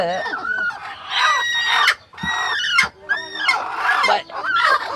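Domestic ducks and chickens call close by, loud overlapping honks and clucks in repeated bursts with short pauses between them.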